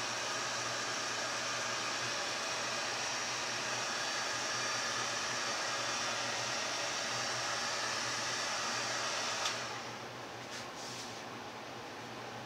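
A heat gun or hair dryer blows hot air in a loud, steady, close-up roar that runs unbroken for about nine seconds, then cuts out, leaving a few faint clicks and a quieter background.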